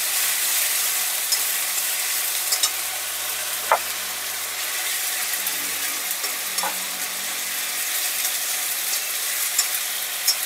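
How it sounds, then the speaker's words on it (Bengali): Onion paste fries in oil with a continuous bright hiss and crackle, close and steady, broken by a few soft clinks and scrapes of stirring; no voices. "পেঁয়াজ বাটাটাকে খুব ভালো করে একটু"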